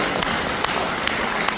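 Audience applause fills a humanities lecture hall at a regional citizens' association gathering, a steady wash of clapping with a few sharper individual claps standing out across the short stretch.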